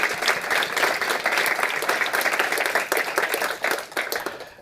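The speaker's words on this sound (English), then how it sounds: "round of applause" A conference audience at a European forum breaks into loud, dense applause, many hands clapping together in a sustained burst that thins slightly at the close.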